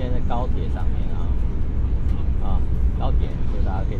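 A steady low rumble fills the interior of a moving high-speed train, a constant drone with a person talking over it.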